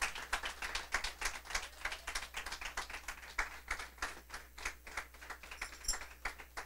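A church congregation applauds during a service with distinct, rhythmic claps that pulse steadily and fairly close, without words over them.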